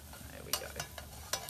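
A spoon stirs browning food in a hot pan, giving a few separate scraping strokes over a low, steady sizzle.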